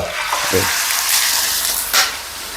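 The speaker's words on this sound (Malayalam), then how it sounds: "ചിക്കൻ്റെ പീസുകൾ ഇതിലേക്ക് ഇട്ടു" Chicken pieces dropped into hot coconut oil, a loud, close, continuous sizzle with a couple of brief bursts as pieces hit the pan, and no voices.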